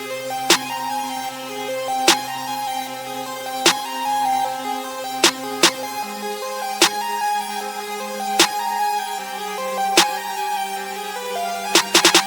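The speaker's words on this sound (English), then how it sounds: "So first we get a snare out of this Rio drum kit." Sharp snare hits land at uneven intervals over a sustained synth chord backing, a sparse, bouncy rage-beat pattern with a quick flurry of hits at the end.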